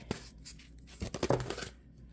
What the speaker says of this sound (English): It's tough to shuffle.